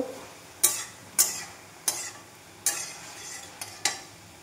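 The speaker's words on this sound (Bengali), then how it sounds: "দিয়ে এটাকে ভালো করে একটু নেড়ে চেড়ে দেবো" Spices with salt and turmeric stirred in a pan, six sharp scraping strokes at uneven intervals over a soft background sizzle, close and distinct.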